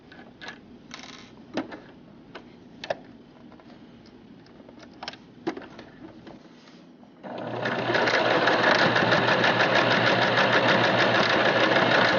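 A sewing machine stitches a seam on a fabric bunny stuffed animal, starting after a stretch of faint clicks and handling noises, then running as a steady, fast mechanical whir that stays close and loud to the end.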